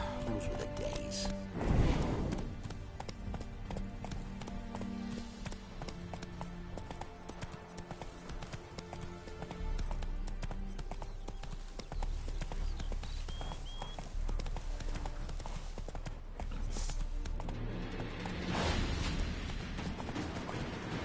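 Roach, the horse in The Witcher 3, gallops with steady rhythmic hoofbeats close by, layered over game music and ambient creaks.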